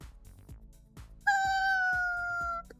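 A cat gives one long, clear, drawn-out meow close by, sounding over a steady soft rhythmic thumping in the background.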